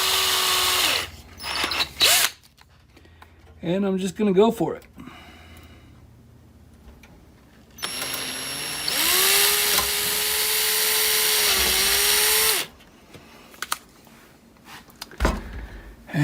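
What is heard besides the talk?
oversized power drill with standard drill bit drilling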